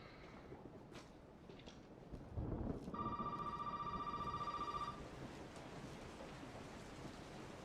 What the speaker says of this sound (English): Phone's ringing, it's probably the police.